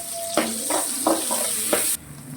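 Curry leaves crackling in hot oil with fennel seeds and a little rock salt, a bright close sizzle with a few sharp popping bursts before it drops away.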